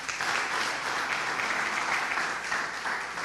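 A church congregation applauds the Lord during a Portuguese-language sermon, a steady wash of clapping that holds at an even level for several seconds without a break.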